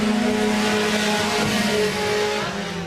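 Four-cylinder race cars circle Laird Raceway during a feature race, engines droning loud and steady with a continuous roar that swells slightly as the pack runs through the turn.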